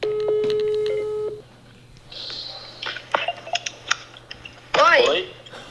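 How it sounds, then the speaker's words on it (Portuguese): A phone call is placed: a steady dial tone, then quick keypad beeps as a number is dialed, followed by clicks and a ringing tone, with voices briefly speaking in between. "Vamos então ligar de novo pra Julie e pro Joãozinho"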